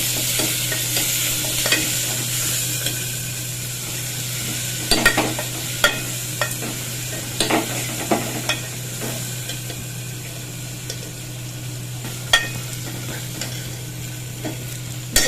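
Thudhuvalai leaves frying in a pan for pepper rasam, a steady low sizzle and hum with irregular spoon scrapes and taps against the pan.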